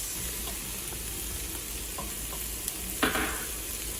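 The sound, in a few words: stirring carrots and garlic frying in a pan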